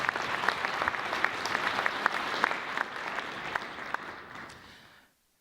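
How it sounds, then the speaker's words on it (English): Audience at a health-policy keynote conference breaks into steady applause, dense clapping from a sizable crowd that holds even for several seconds, then fades out quickly at the end. "give them a round of applause"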